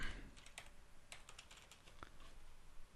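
Computer keyboard typing while entering text in PowerPoint 2007: a quick, irregular run of light plastic key clicks, close and steady, with no speech.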